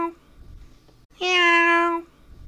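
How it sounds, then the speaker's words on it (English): A single clear, sustained meow rings out for under a second, loud and close, following a couple of faint quieter sounds. "Meow. C-A-T, meow. Cat. Meow. Meow."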